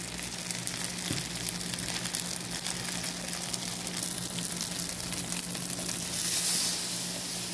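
Fresh yellow sweetcorn and broccoli sauté in a hot pan, giving a steady, close, dense sizzle and crackle that holds throughout with no voices.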